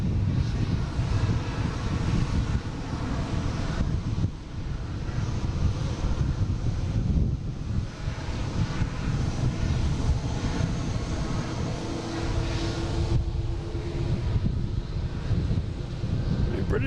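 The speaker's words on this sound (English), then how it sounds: "We got a Delta lining up out there to take off on 9." At Boston Logan, a Delta airliner lines up to take off on runway 9 while jet engines rumble loudly and continuously in the distance, mixed with wind buffeting the microphone and bits of talk.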